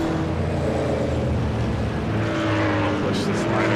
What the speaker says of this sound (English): you get to hear the engines at low RPMs